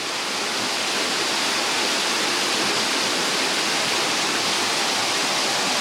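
Close and unchanging, a rainy-season torrent at Saeng Chan waterfall, Ubon Ratchathani, plunges into a rock hole with a dense, steady hiss and roar that fills the whole span without any speech.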